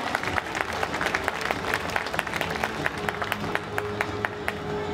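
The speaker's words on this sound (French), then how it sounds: "On l'applaudit bien fort, notre Draculaura." A convention crowd claps steadily for several seconds after a cosplay parade entry, a dense patter of many hands with a few sharper claps standing out near the front.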